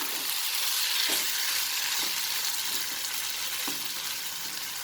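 Potatoes sizzle with spices in a pan over a medium flame, a steady, fairly quiet frying hiss with a few soft scrapes of stirring and no talking.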